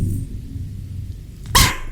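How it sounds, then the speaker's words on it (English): A dog barks once, sharp and loud, during a thunderstorm at an inn, following a low rumbling stretch of thunder; the single bark bursts out near the end of a short quiet spell. "that's the dog screaming at it because she doesn't like it"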